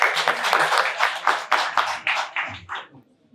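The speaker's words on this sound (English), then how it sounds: "Please give a big round of applause for him." Conference audience applause for a keynote speaker at the Bato Summit, a burst of clapping from a modest crowd that comes in rhythmic swells and fades out near the end.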